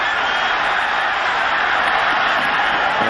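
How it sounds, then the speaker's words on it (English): A packed football stadium crowd roars in a steady, loud wall of yelling after a late hit on a kick returner, with no breaks or quiet moments. "the crowd yelling for a late hit"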